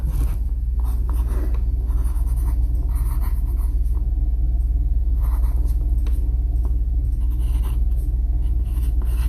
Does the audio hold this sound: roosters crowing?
no